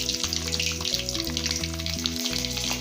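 Fenugreek seeds fry in hot oil with a steady, close crackling sizzle. Background music plays underneath, and no one speaks.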